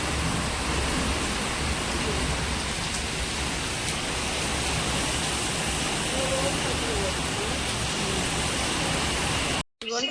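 Rain falls outside as a steady, loud, even hiss that fills the whole stretch with no break, then cuts off abruptly near the end.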